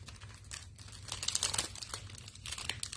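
Paper or plastic crinkles and rustles in quick bursts while card-making craft items are cleared from a work surface, close up and fairly loud with no talking.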